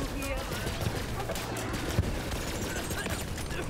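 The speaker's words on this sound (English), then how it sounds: "Using the Gatling." A Gatling gun fires continuously in Borderlands 3, with dense, steady rapid-fire bursts and a few sharper cracks throughout, loud and up close.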